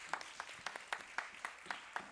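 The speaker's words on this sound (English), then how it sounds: "Big round of applause for ma'am." Sparse applause from a small conference audience welcoming a woman doctor on stage, with a few distinct claps spaced out in a loose, uneven rhythm, faint and somewhat distant.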